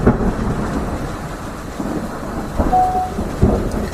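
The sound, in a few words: thunder rumbling with rain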